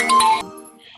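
A mobile phone rings with a short, bright melodic ringtone burst that cuts off abruptly, leaving a faint tail in a quiet room.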